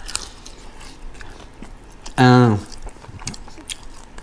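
Biting and chewing on crunchy buffalo hot wings with Frank's sauce, a few soft crunches and chews close by, with a short vocal sound in the middle.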